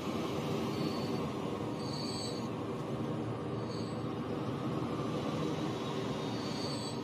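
Train wheels squeal in the video game Transport Fever 2: a steady metallic rumble of rolling rail cars with repeated high screeching squeals rising over it, continuous and moderately loud.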